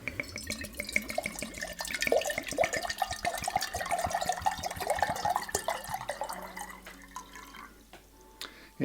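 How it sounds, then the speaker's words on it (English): Water pours into a brass kettle in a steady trickling stream with dripping and splashing that rises and thickens, then tapers off near the end. "Next we need to simply fill a brass kettle full with water."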